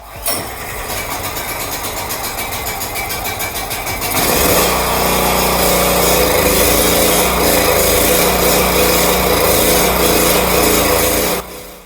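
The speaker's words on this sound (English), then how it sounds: "the generator is running. I mean, it's running like shit" A Predator portable generator after carburetor cleaning cranks and catches, then runs loud and close with an uneven, rough engine drone that holds steady until it cuts out at the end.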